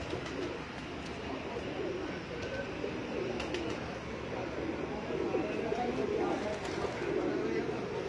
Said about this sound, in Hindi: ये हमारा प्यारा कबूतर है जी